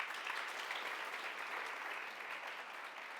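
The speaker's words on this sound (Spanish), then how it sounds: "Vamos a despedir a Jonathan con un fuerte aplauso." A steady wash of audience applause fills the room, continuous and moderately faint, with no voices standing out over the clapping.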